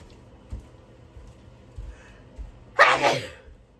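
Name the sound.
sneeze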